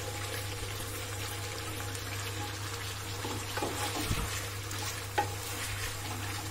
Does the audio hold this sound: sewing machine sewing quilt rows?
no